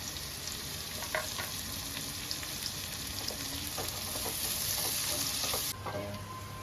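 Tomatoes frying in a pan with cardamom powder and chilli, a steady close sizzle with stirring scrapes and small crackles, turning slightly quieter near the end.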